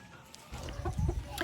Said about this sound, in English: I'm out here sitting with my chickens in the evening